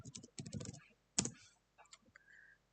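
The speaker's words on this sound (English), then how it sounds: "just go to your browser and type MySQL Windows download" A computer keyboard types a search into a web browser. Quick bursts of close, crisp keystrokes arrive in clusters with short pauses, followed by a brief faint tone.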